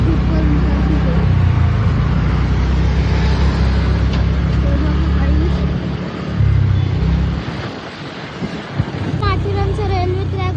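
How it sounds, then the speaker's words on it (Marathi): Road traffic rumbles along a crowded ghat road near Kola waterfall, engines droning close and loud with wind buffeting the microphone, a brief lull near the end, and a voice talking over it. "ट्रॅफिक खूप आहे इथे."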